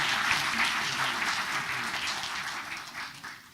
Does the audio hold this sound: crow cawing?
no